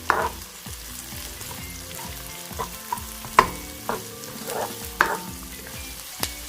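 Garlic frying in a pan for a Filipino ginisang mungo, onion added once the garlic turns golden brown: a steady close sizzle broken by repeated stirring scrapes and clinks of a utensil against the pan, with no talk.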